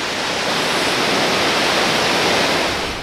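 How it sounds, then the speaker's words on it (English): A popular waterfall on the island of Dominica roars as a loud, steady broadband rush of falling water, continuous and close throughout with no voices. "This is one of the most popular waterfalls on the island."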